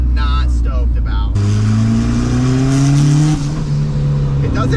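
A turbocharged Honda engine, burning oil, accelerates at light throttle with a rising drone, loud and close from inside the car, after a brief voice at the start.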